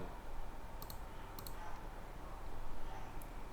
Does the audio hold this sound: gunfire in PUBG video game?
no